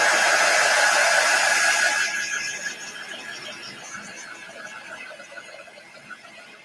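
A dryer blows over wet ink on a Mylar stencil, a loud, steady rushing airflow for about two seconds before it cuts off and fades to a quiet room.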